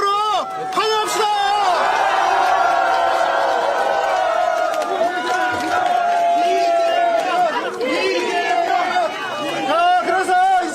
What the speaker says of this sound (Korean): 뜨거운 박수와 함성으로 환영합시다